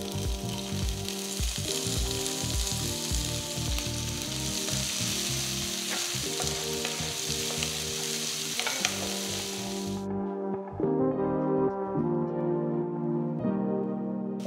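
Thinly sliced onion sizzles and fries in a pan with a steady bright hiss and rhythmic stirring scrapes, close and continuous, before the hiss suddenly drops away near the end.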